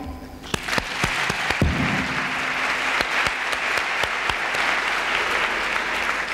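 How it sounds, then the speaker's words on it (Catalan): Audience applause for a tutor at a school awards ceremony in Carlet, a loud, dense, steady wash of clapping with a few sharp individual claps standing out, sustained throughout. "demane un fort aplaudiment per a ella"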